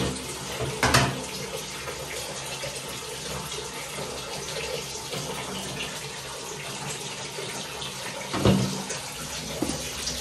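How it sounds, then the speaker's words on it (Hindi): Cold water runs from a tap into a small bucket at home, a steady gushing splash that continues throughout, with a couple of brief louder surges and clunks of handling. "अब मैं इसमें बाकी का पानी ठंडा भरूंगी"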